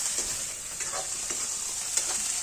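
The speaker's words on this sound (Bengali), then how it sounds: "মশলাটা মারতে হবে, কষাতে হবে।" Spice masala sizzles in hot oil in a pan for chicken rezala while being stirred, a steady bright hiss broken by short scraping strokes.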